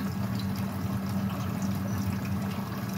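Steady rushing pour of about two cups of water into a cooking pot, a low, continuous gurgle, fairly close and loud, running without pause throughout.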